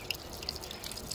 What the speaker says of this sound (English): Feel some water going through.